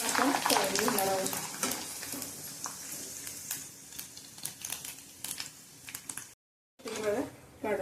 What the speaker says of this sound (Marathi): चांगला तेलात फुलेपर्यंत आपण तळून घेणार आहोत